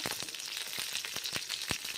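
Curry leaves and a couple of dried red chillies sizzle in hot oil while tempering a Tamil mor kuzhambu, a faint, steady hiss broken by quick popping crackles, with no talking.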